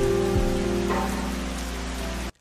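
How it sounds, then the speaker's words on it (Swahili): Rain falls on a phone lying in the road as a steady, close hiss of drops on the surface, heard under a sustained musical score until it cuts off abruptly. "Pale mvua inaendelea kulowesha simu ile."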